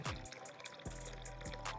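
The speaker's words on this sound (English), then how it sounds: "Now I'm going to put that cold water" Cold tap water poured into a bowl for a simple thermal energy experiment, a short continuous pour with splashing that restarts briefly a couple of times, close and fairly quiet.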